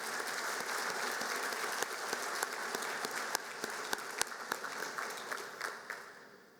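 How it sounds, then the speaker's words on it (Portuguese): Crowd at the FIPA 2026 opening ceremony claps together in a sustained, even wash of applause, moderately distant, slowly thinning toward the end. "Peço neste momento uma salva de palmas a todos os importantes elos dessa cadeia"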